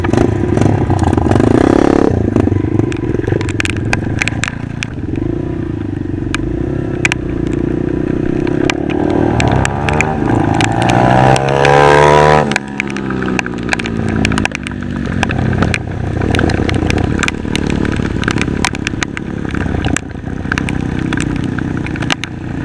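Honda MSX 125 Grom motorcycle ridden up close, engine buzzing and revving through shifting pitches with clattering and rattling mixed in over about twenty seconds, no talk.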